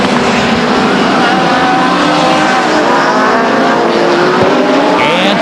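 Race cars roaring around Stockton 99 Speedway, a loud continuous engine drone with rising and falling revs as cars pass, dense and unbroken throughout.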